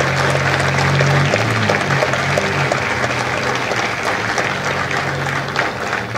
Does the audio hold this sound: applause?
yes